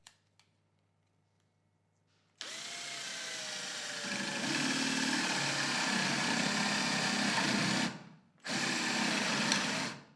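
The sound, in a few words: drilling wood with a flat drill bit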